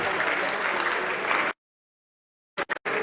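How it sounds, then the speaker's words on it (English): An audience at a university town hall with presidential candidates applauds the candidates and organizers in a sustained round of clapping that cuts off abruptly, followed by a few brief sharp bursts. "if you want to clap for the candidates and the organizers, you can clap."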